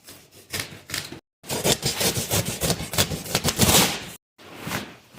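Packaging being torn and pulled off a boxed DV8 aftermarket bumper for a Jeep JKU, heard close up as loud scraping and crinkling in bursts, with two short pauses between them.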